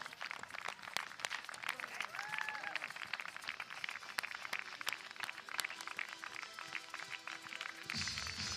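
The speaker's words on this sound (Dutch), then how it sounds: "Geef ze een applaus." Outdoor Friesian horse breeding show audience clapping during a lap of honour, a thin steady patter of many hands at moderate distance, with a brief whistle-like tone and a change in background near the end.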